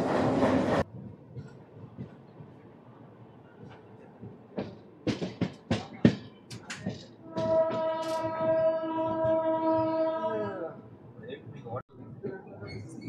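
Tirupati AC Double Decker Express pulling out of Renigunta Junction: sharp clanks and knocks, then a long sustained horn-like tone over rolling rail noise, heard up close with a burst of noise at the start.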